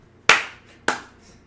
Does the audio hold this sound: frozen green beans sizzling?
no